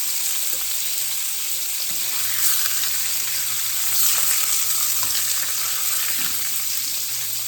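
Burger patties fry in a pan with a steady, bright sizzle, close and continuous, with a few faint scraping knocks.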